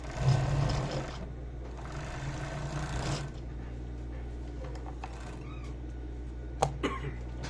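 A five-thread overlock sewing machine running on three threads joins fabric for a tote bag, a close steady motor whir in two bursts of about a second and two seconds, then quieter handling and a few sharp clicks.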